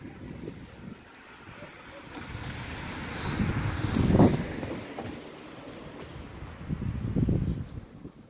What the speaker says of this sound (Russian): Сегодня опять ветер.